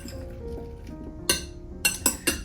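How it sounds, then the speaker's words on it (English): Roasted vegetables tossed in olive oil inside a bowl, with a spoon clinking against the bowl four times in the second half after quieter stirring, close and clear. "And then just stir them around in that oil so that they're nicely coated."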